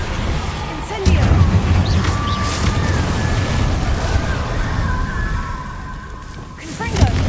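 Incendio fire spell cast in the Hogwarts Legacy video game, a sustained roaring burst of flame that starts abruptly and continues for several seconds amid game effects, with a voice heard alongside.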